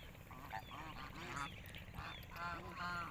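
Village geese give a series of honking calls in quick succession, fairly faint and a little distant, with no one talking over them.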